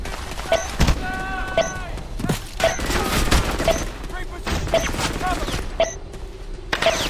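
Gunfire rattles through a Frontline: Fuel of War firefight as a fusillade of close, loud bursts and single shots mixed with thuds. The shooting goes on almost without a break, and voices shout over it.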